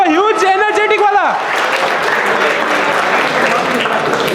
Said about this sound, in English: Please come on the stage and give a huge round of applause for them.